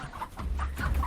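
Chickens at a market give several short, close clucks in quick succession over a low background hum.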